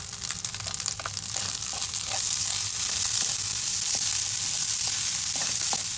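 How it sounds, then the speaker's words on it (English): Green parts of green onions sautéing with salt and black pepper in a pan for pineapple fried rice give a continuous loud sizzle with light scraping and stirring taps throughout. "and you're just going to saute that."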